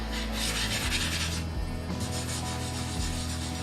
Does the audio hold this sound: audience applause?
no